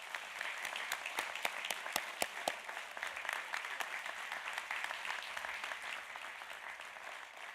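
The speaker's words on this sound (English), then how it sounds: "please join me in a round of applause to welcome back to campus our Golden Jubilarians" An audience at a college commencement ceremony applauds to welcome back the class of 1972, a sustained, full round of clapping with a few sharper claps standing out early on, steady and then gently tapering.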